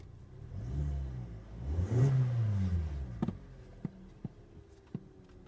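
A Ford EcoBoost car engine runs and revs up once, the tone swelling and falling near the microphone, then settles to a quiet idle marked by a few sharp clicks or taps.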